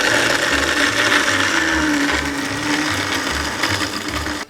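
A blender whirs loudly while mixing homemade caramel frappuccino with ice, its motor running steadily with a rhythmic chunking pulse as contents churn, ending abruptly.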